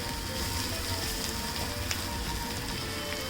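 Steady, dense sizzling of garlic and ginger frying in hot oil, continuous and close, with faint crackles and no talking.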